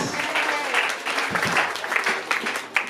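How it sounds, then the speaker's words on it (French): Church congregation clapping for Jesus Christ, loud and sustained with a busy, uneven texture and some crowd voices mixed in. "Applaudissez pour Jésus-Christ."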